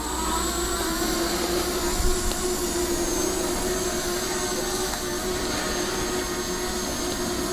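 A Hubsan Zino Mini Pro drone flies in to land during a snowstorm, giving a loud, steady high-pitched motor whine with a constant tone that continues without pause.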